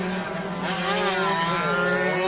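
Racing motorcycles screaming past at the Cub Prix race at Sepang, a loud, continuous high-pitched engine whine with rising and falling pitch as the bikes rev hard through the circuit.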